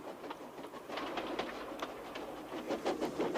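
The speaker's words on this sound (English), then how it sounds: "Instead of nice shining coaches, he was pulling a dirty freight train." A dirty freight train pulled by a model Hornby or Bachmann locomotive rolls steadily along the rails, with a continuous rumble broken by repeated clicking wheel beats through the whole stretch.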